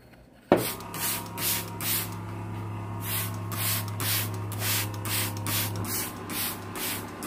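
Homemade solution sprayed onto houseplants from a trigger bottle, a quick series of about ten close, rhythmic hissing spritzes over a low steady hum after an initial click.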